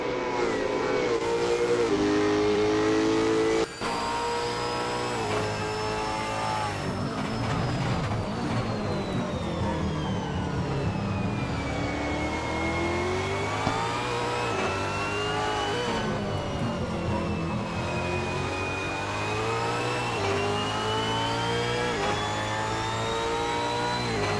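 Supercars race cars, including a Ford Mustang, scream past at Newcastle, their engines revving and shifting through gears in a loud, sustained roar with rising and falling pitch as they accelerate and brake, without commentary.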